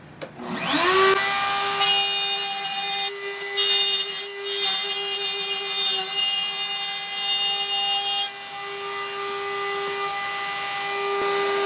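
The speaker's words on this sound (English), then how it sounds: "run it through the router" A router spins up to a loud, steady high whine as it cuts box joints through wood on a jig, holding a constant pitch with slight changes in load.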